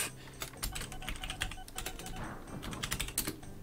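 Rapid, close clicking of keys as someone types on a computer keyboard, an irregular rattling burst lasting several seconds with no talking over it.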